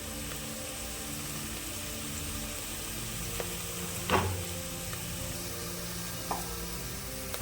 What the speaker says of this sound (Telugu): కొద్దిగా తాలింపు గింజలు ఎక్కువ వేసుకున్నాను